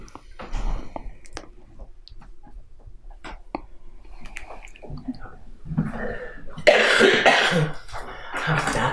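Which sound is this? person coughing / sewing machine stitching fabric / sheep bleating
person coughing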